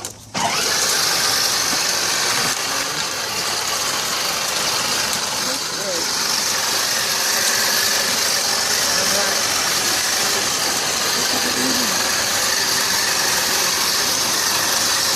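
A car engine runs and revs steadily during a driving lesson after a brief start, a close, continuous mid-pitched drone under occasional talk.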